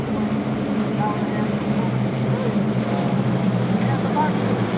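Beechcraft T-34 turboprop trainer flying low over the AirVenture airshow grounds, a steady continuous engine drone with strong low harmonic bands, holding constant and fairly close throughout.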